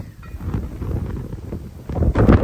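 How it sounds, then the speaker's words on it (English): Gusty wind rumbles and buffets the microphone continuously, growing rougher and louder toward the end. "Holy frig, it's windy."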